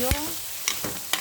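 Hotdog pieces being stirred in a frying pan, with three short scraping strokes of the utensil over a steady, quiet sizzle; a brief tonal whine sounds at the start.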